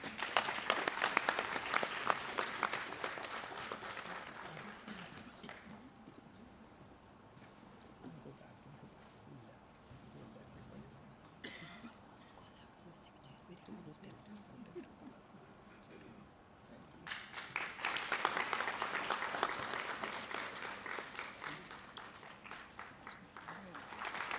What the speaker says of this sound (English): Give them a huge round of applause, everyone.